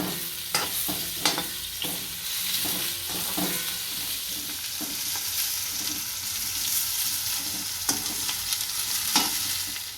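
Steady, bright sizzling of pointed gourd (parval) frying in oil, with occasional scrapes and taps of a spoon stirring the pan nearby.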